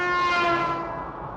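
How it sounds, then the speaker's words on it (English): A loud, sustained horn blares from a movie scene, a single long blast that slowly fades over a second and a half, heard alone with no talking. "Why do people keep honking?"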